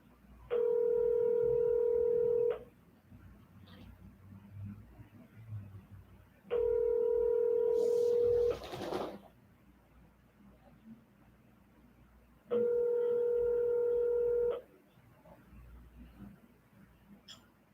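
A telephone call's ringback tone sounds in three long, steady rings of about two seconds each, spaced roughly six seconds apart over a low background hum.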